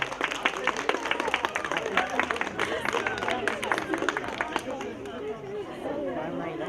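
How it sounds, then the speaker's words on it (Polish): Applause from an audience at an outdoor district Earth Day and Forest Day celebration, dense clapping with crowd chatter through the first half, then fading into murmuring voices. "Wielkie brawa i prosimy na scenę"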